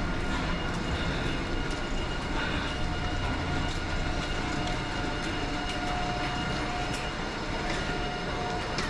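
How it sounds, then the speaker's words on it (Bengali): A large train rolls past on a Sikkim and Darjeeling trip, a continuous loud rumble with rattling, clanking wagon noise and a faint tonal whine held throughout. "ট্রেনটা দেখেই ভয় লাগছে, এত বড়।"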